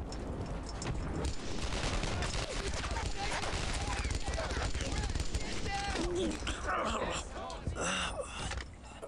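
Machine gun fire in the World War II game Brothers in Arms: Earned in Blood, rapid bursts crackling over a busy battle mix with shouting voices and scattered impacts, loud and near throughout.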